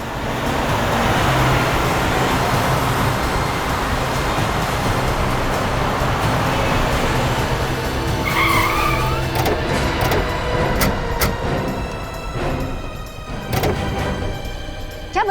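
A car drives on a road in a police crime drama, its loud continuous engine and road roar filling the scene, with sharp tyre squeals and a skid near the end as the car is stopped.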